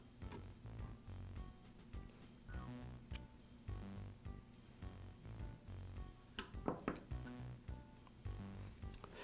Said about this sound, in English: I'll slide the knife side to side until it's centered on the clamp